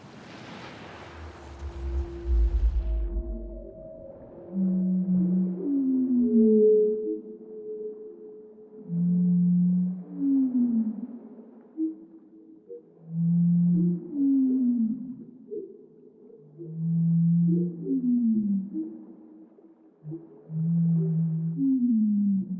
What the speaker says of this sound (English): The humpback whale song is very complicated, and they even make new songs, new tunes again and again.